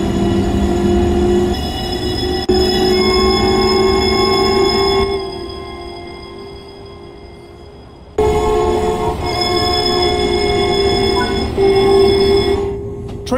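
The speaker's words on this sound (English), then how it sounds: "You are currently riding an M7 electric multiple unit formed of four A and B coach pairs." An M7 electric multiple unit of four A and B coach pairs runs on the Long Island Rail Road in the Train Sim World 3 game. Its steady motor whine and rolling rumble fade midway, then return loud and continuous, with no talk.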